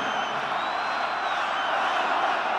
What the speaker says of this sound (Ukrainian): зараз гучно кричать люди